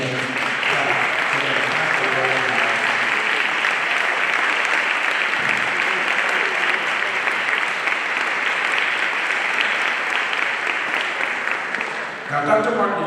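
An audience at an MLK commemorative breakfast gives sustained applause, a steady wash of clapping hands that holds evenly for most of its length before tapering as a voice begins at the end.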